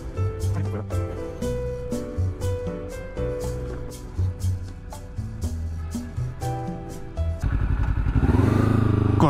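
A motorcycle rides through city traffic, its engine droning and pulsing under tonal background sounds before swelling into a louder rushing roar near the end.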